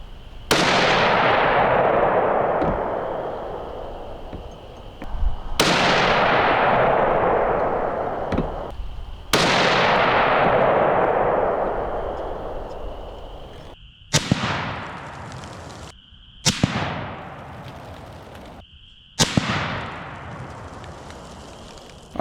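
Six loud rifle shots from a .30-06 firing 180-grain Barnes ammunition, each a sharp crack with a long rolling echo; the first three are spaced evenly about four seconds apart, the last three quicker and clipped short, with no talk.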